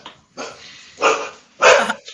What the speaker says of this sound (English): You got a dog. Someone's coming in the house.